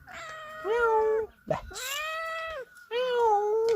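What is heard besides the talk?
cat meowing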